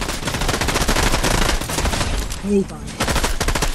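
Rapid automatic gunfire from an overpowered weapon in a shooter video game, a loud dense stream of shots with a brief pause, under excited talk from a player.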